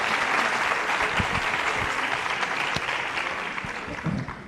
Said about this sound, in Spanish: Y pues un fuerte aplauso para nuestros invitados.